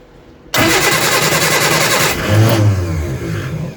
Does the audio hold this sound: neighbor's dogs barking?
no